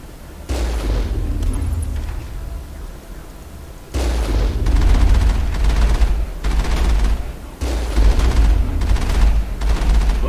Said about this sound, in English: at least the cannon seems to hit it